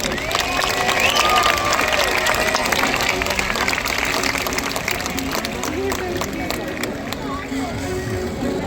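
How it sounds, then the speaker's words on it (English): Crowd at a SeaWorld San Diego killer whale show applauds and cheers, a broad sustained roar of clapping and voices with a loudspeaker voice and water sounds blended in. "Let's give one more big round of applause for Ike."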